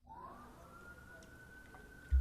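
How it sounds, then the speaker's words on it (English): An ambulance siren wails faintly in the distance outside, a thin rising and holding tone under quiet room ambience. "There is some noises coming through of ambulance."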